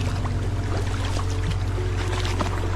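Boat pushed with a bamboo pole across dam water, a steady wash of water sloshing and trickling against the hull under a constant low rumble, loud and close, with no talking.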